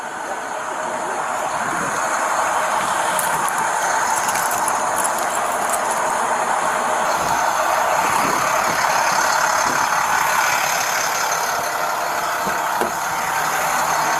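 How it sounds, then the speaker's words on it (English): A police patrol car's air conditioning blows with the engine idling at the roadside, a steady, close broadband roar and hum that runs unchanged throughout. "The AC's on pumping there"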